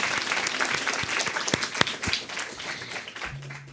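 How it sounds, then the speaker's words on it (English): Audience applause for a group of presenters at a graduate talks event, dense steady clapping with a few sharper individual claps, fading slightly toward the end. "Let's give them all a round of applause."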